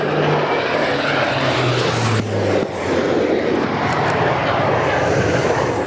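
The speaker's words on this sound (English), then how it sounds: "Herc over the top." A RAAF C-130 Hercules from No. 37 Squadron passes overhead at an air base during a dawn strike exercise, a loud, steady propeller and turboprop drone that swells slightly and holds throughout with no talk.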